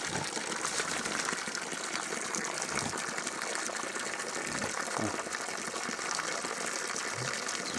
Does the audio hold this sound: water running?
yes